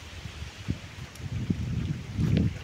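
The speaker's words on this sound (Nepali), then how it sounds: "हावा त फेरि उयो यार" Wind gusts outdoors buffet the microphone as a low, rumbling roar that swells in uneven bursts and grows strongest near the end, with no one talking.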